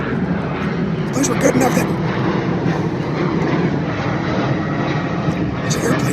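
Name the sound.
airplane flying overhead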